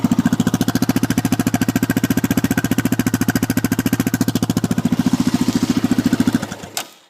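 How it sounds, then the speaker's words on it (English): A 2001 Yamaha Raptor 660 quad engine runs at a steady idle with a loud, close, rapid thumping pulse and no voices. The engine cuts off abruptly near the end. "Quad runs perfectly."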